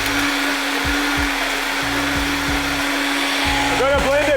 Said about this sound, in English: We're gonna blend it for about 5 minutes.